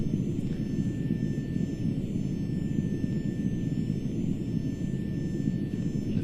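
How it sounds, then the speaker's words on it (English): Airliner jet engines in the X-Plane flight simulator spooling down on the ramp after landing at Innsbruck, a steady broadband roar with a faint high whine, constant and close throughout. "ready for powering the engines down"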